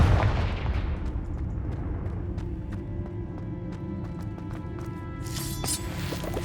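Fire-spell blasts in Hogwarts Legacy gameplay: a heavy explosive burst opens, followed by a series of sharp, short cracks and impacts over a rumbling background, with a bright crackle near the end.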